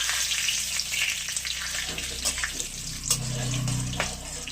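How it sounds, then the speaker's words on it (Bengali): Dry red chillies, bay leaves and whole garam masala sizzle steadily in hot oil, a dense continuous crackle with faint scraping, close and loud with no voices. "শুকনো লঙ্কা ফোড়ন দিলাম তেলে, দুটো তেজপাতা দিলাম, একটু গোটা গরম মশলা দিলাম"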